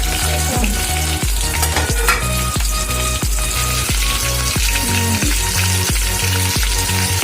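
Cheesy chicken pieces frying in a pan and being turned over, a loud continuous sizzle punctuated by regular spatula scrapes and taps about every half second, close and without speech.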